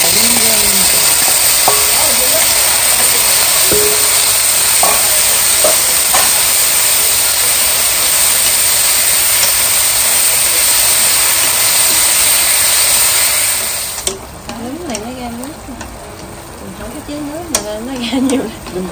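Mushrooms stir-fry in a pan for a vegetarian noodle soup, sizzling with a loud, steady hiss and occasional clinks of a utensil. The sizzle drops away near the end, leaving quieter kitchen clatter and a voice speaking.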